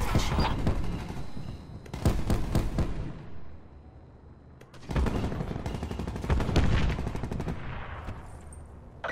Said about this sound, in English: We're taking ground fire. Taking fire.